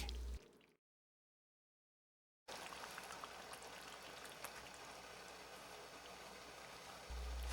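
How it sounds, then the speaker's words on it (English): Tomato sauce with seitan meatballs simmering uncovered in a pot, a faint, steady bubbling crackle like light rain that starts after a brief silence. "we just need to let it simmer uncovered for another hour to reduce the liquid and make it"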